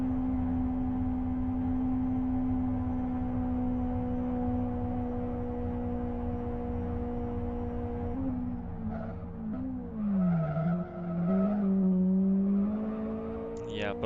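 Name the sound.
car tire skid from a hard handbrake turn, XFG, racing video game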